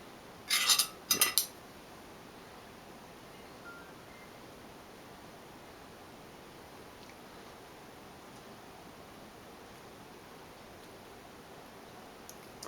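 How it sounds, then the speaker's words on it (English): A metal spoon clinks against a plate while scooping apple risotto with bacon, two brief clusters of bright scraping taps near the start, then near silence with faint room hiss. "you scoop it into the spoon and then you eat it that way"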